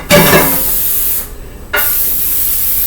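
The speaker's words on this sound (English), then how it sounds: "I have some cooking spray, so I'm just going to spray this pan down really good." Cooking spray hissing onto a cake pan for strawberry shortcake: a loud, close, steady aerosol hiss in two bursts, the first about a second long and the second longer, split by a short pause.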